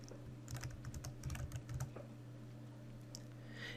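A computer keyboard typed on briefly in a quiet room, a quick burst of light clicking keystrokes for a couple of seconds over a steady electronic hum, then a lull.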